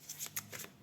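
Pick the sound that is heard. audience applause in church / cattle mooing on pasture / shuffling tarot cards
shuffling tarot cards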